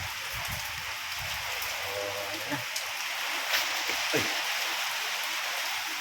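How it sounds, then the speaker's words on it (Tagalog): Heavy rain pours down in a steady hiss on surfaces along a flooded, muddy road in the Philippines, with a few brief thuds and a voice speaking now and then beneath the downpour. "Palakas yung ulan."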